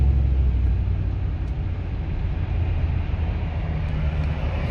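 A car rolls along after repairs to its EGR valve, idle air control valve and DPFE sensor, giving a steady low road and engine rumble from inside the cabin, continuous and even with no voices.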